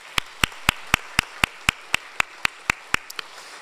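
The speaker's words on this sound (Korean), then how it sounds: "주님 앞에 우리 함께 영광의 박수 한번 올릴까요?" A church congregation at a Sunday worship service claps in unison, about a dozen sharp, evenly spaced claps in a steady rhythm, then a few softer, looser ones at the end.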